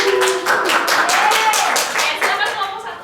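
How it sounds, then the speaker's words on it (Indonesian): A classroom group applauds a student presenter with steady, fairly loud clapping, while voices talk over it. "Kasih tepuk tangan."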